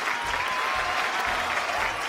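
A studio crowd on a Malayalam game show applauds for Mohanlal fans, a short burst of dense, even clapping from many hands held at a steady loudness throughout.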